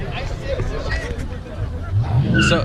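Cars racing at a car meet, engines revving and tires squealing amid a noisy crowd of chattering spectators, the engine noise swelling louder toward the end.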